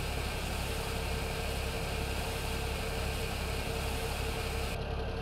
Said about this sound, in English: I do love the sound of the tractors